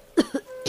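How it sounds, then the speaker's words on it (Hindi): A woman coughs several times in short, close bursts, three harsh hacks spaced across a brief moment with quiet between them. "पत्नी फिर खांसने लगी।"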